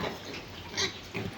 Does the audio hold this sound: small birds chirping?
no